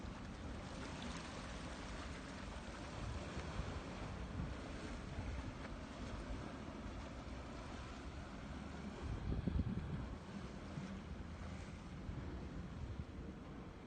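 Ocean surf washes steadily along the North Shore near Boston, a continuous broadband rush with a few swelling surges, heard alone with some wind noise on the microphone.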